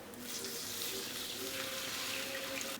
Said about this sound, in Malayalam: ഇതിലേക്ക് ഇനി പുളിവെള്ളം ഒഴിക്കാം.